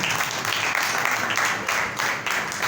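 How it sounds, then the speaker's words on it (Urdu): A church congregation applauding loudly, a sustained patter of many hands clapping in uneven surges that carries on without speech. "اس بادشاہی کے لیے زوردار تالیاں بجاتے ہیں۔"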